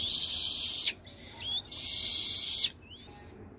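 A captive purple swamphen on a farm giving loud, high, sustained begging cries like a hungry chick, two long calls separated by short thinner squeaks, close and clear.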